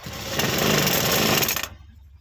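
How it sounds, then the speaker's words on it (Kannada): A tailoring sewing machine stitches a hemming strip in one fast, continuous burst of rattling needle strokes lasting under two seconds, then stops abruptly. "ಈ ರೀತಿ ಸ್ಟಿಚ್ ಮಾಡ್ಕೋಬೇಕು"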